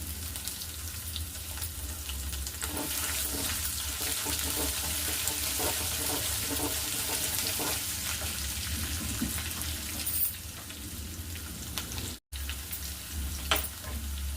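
Crushed homemade ginger and garlic frying in a pan of hot oil for raw mango chitranna, a dense continuous sizzle with occasional stirring, steady and close, with no voices.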